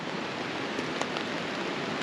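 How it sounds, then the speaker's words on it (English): Steady rain pattering on a tent while camping, a dense, even hiss of drops close overhead with a few slightly louder taps, continuous throughout with no talking. "It's raining now."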